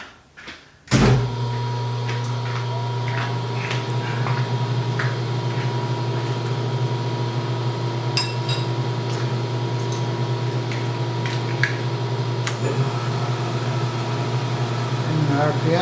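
A Bridgeport milling machine cutting a five-foot-long shaft starts up with a loud thump, then settles into a steady motor whine and tonal machining hum with faint clicks, and a high-pitched tone enters near the end.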